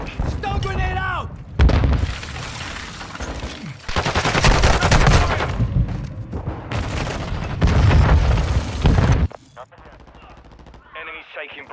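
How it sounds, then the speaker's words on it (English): Call of Duty MW2 Domination match at Al Barga fortress: dense, loud bursts of automatic gunfire and booming blasts, with game voices calling out, ending in a quieter stretch. "Stun grenade out!"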